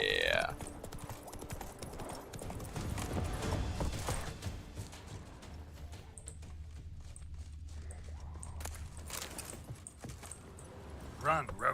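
Roach, a horse in The Witcher 3, runs with steady clip-clop hoofbeats amid game ambience and music, with a short whinny-like flourish near the end.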